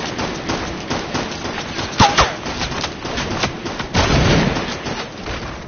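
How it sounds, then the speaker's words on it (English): Rapid bursts of video-game gunfire laying down cover fire, with a sharper volley of shots in the middle and more bursts later, mixed with voices. "I got cover fire for you."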